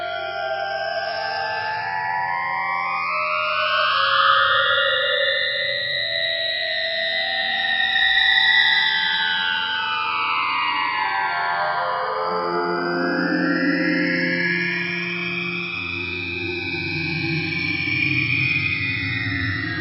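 Evolving synthesizer textures from the Alchemy synth in Logic Pro, with sweeping, gliding tones that rise and fall over a sustained drone, steady and loud with no talking.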